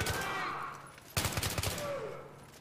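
Sniper and gunfire sounds from the video game Battlefield 3, a loud burst of rapid cracking shots starting partway through and continuing for about a second, over steady game background noise and voices.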